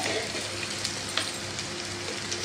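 Shallots, green chillies, ginger and curry leaves sautéing in oil, a continuous even sizzle with a few light stirring clicks, close and steady.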